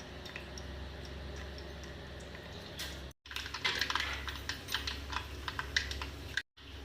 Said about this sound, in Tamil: கடுகு பொறிஞ்சிச்சு